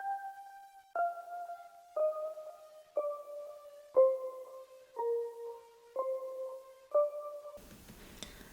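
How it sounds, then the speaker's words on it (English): A soft, airy chillwave synth patch built in Serum plays a slow melodic line of about eight sustained notes, roughly one per second, clean and alone, ending in a brief burst of noisy texture. "this is a synth that I made in Serum but froze out"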